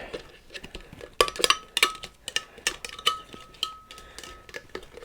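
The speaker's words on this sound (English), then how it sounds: "I'm just going to go in there, mix it around a little bit" Clinking of a utensil against a bowl while walnut pesto cream cheese is stirred by hand, a run of irregular scraping taps and sharp clinks close by, with no talking.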